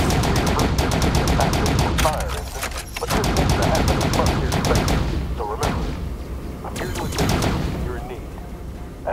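Starfighter gunfire in the space game Phantom Galaxies: rapid bursts of blaster fire crackle in loud volleys with heavy booms between them, dense and close, while voices and battle noise run underneath.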